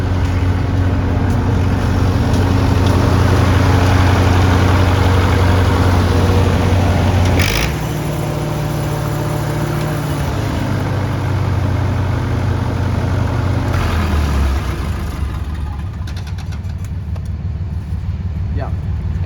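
A Lincoln SA200 welding machine with a failed radiator idles nearby in a loud, steady low drone. Its tone shifts slightly twice as it runs on.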